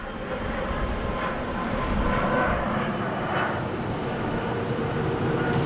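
An airplane at Sydney Airport roars steadily and loudly as a broad, continuous engine rumble, with no talk.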